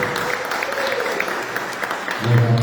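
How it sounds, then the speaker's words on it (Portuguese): Members of a church congregation clap together in a steady burst of applause, moderately loud. Near the end a low hum or voice rises beneath the clapping. "Vamos aplaudir o Senhor."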